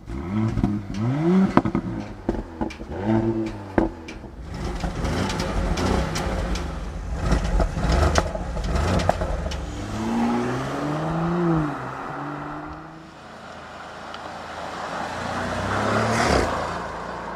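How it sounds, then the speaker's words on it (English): A 2024 Porsche Cayenne 3-liter V6 and Cayenne S 4-liter V8 rev hard in several bursts, rising and falling in pitch, the later V8 revs deeper and fuller, fairly close with no talking. "let's do a sound comparison, V6 versus V8."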